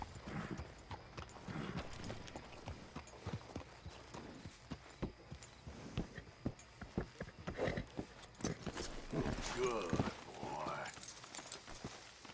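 Horse hooves clip-clop in Red Dead Redemption 2, a quiet uneven walking rhythm with a brief whinny-like sound near the end and game ambience and voices mixed in faintly.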